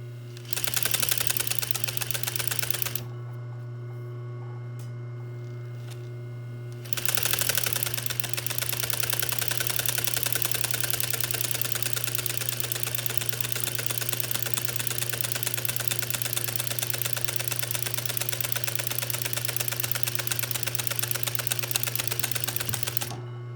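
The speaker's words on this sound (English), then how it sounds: "I'm just going to place my needle in for the first one with a hand crank, and then sew." An industrial sewing machine with a buttonholer attachment stitches a buttonhole in fabric, giving a steady loud mechanical whir with a constant hum that pauses for a few seconds and then resumes.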